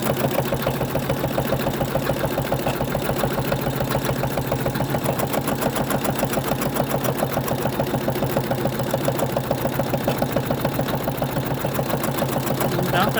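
Embroidery machine stitching a 3D star Christmas ornament in the hoop, a steady fast mechanical needle chatter running loud and continuous throughout with no talk.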